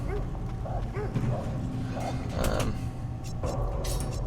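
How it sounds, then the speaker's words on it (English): Dogs bark in the video game Of Orcs And Men, in a catacombs area: short, repeated yaps at a moderate distance over a steady creaking, mechanical background hum. "There's some dogs."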